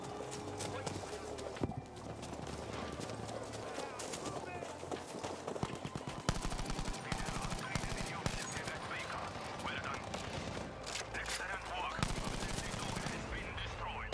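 Battlefield V gameplay combat: continuous dense gunfire and explosions mixed with galloping horse hooves and neighing, busy and loud throughout with intermittent chatter.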